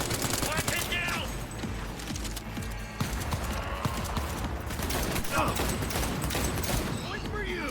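Cyberpunk 2077 firefight with rapid automatic gunfire and scattered impacts layered over busy game sounds, loud and continuous, with a voice speaking intermittently over it.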